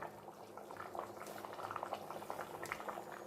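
Fish curry bubbles on a low flame, a soft, steady simmer of small popping bubbles heard close and quiet with no talking.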